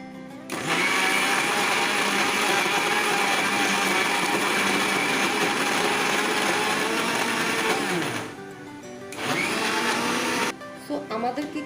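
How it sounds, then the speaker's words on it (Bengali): An electric blender minces chicken for tempura nuggets, whirring loudly and continuously for several seconds, cutting off, then running again in a shorter burst before stopping. "ওইভাবে আমি এখন ব্লেন্ডারে এটাকে ভালো করে আমি কিমা করে নিব।"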